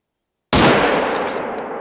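A single loud rifle shot in the hunting game The Hunter: Call of the Wild, set in Yukon Valley, cracking sharply after silence and then ringing out in a long, fading echo.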